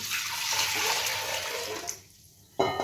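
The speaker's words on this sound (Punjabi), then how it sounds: "ਇਹ ਕੁੱਕਰ 'ਚ ਪਾਵਾਂਗੇ ਪਾਣੀ" Water gushes and splashes steadily into a pressure cooker, then quiets to a trickle before a brief clatter at the end.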